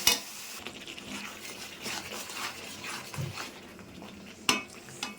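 Spice masala with green chilli and meat masala being stir-fried in a pan: soft, quiet scraping and stirring with a couple of sharp utensil clinks against the pot, faint sizzle underneath.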